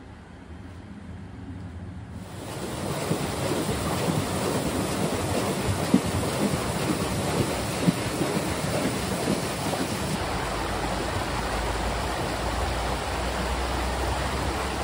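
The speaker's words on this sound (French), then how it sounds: "Commence à prendre et il pleut." Steady rain falls outside a cabin, a dense, even hiss that starts abruptly after a quiet first couple of seconds and stays loud and continuous to the end, with no voices.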